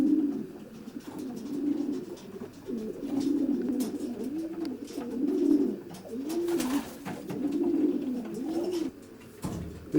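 Racing pigeon cockbirds coo in a steady, repeating rhythm close by in a loft's nest box compartment, with soft clicks and flutters scattered throughout.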